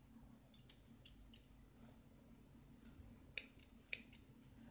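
Scissors snip through blue yarn during crochet flower work, giving sharp, close, isolated clicks in two clusters of three or four cuts with quiet pauses between.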